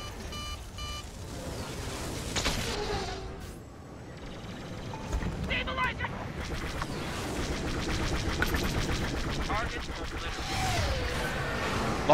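Starfighter blaster fire in the Star Wars Battlefront 2 video game, scattered zapping shots among beeping alerts, engine roar and crashes, dense and busy throughout.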